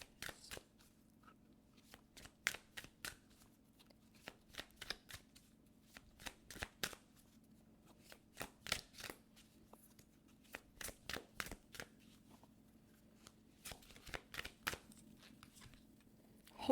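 A Greenwich Oracle card deck shuffled by hand nearby, short crisp riffling bursts coming again and again in an uneven rhythm across a quiet room, with a steady low hum beneath.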